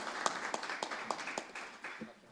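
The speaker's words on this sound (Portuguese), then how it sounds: "Eu peço uma salva de palmas neste momento" A civic gathering audience claps at a political candidate event, with individual claps close and distinct at first, then thinning out and fading over about two seconds.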